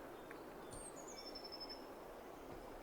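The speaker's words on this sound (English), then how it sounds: "Forest birds." Forest bird ambience from a chill hop sound app plays very faintly, with a few thin, high chirps and whistled calls over a soft, steady background hiss.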